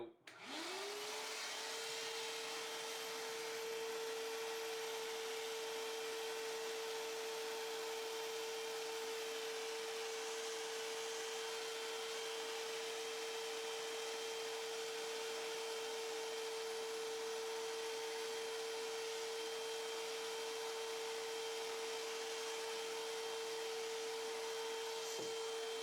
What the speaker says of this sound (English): one more pass through with the shop vac